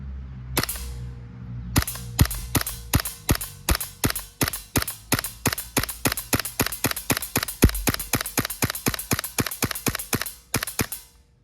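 A GHM9G gas-powered airsoft pistol fires semi-auto at close range: a long run of about forty sharp, evenly spaced cracks in quick succession, with brief pauses near the start and end.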